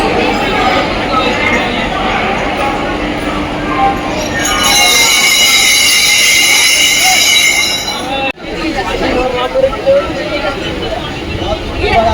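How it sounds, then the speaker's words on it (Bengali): A loud train packed with Shiva devotees rumbles past with steady rolling noise and high metallic wheel squeal, while a crowd chatters nearby. "ভর্তি ট্রেন সব ভোলে বাবা চেলারা চলেছে চলুন"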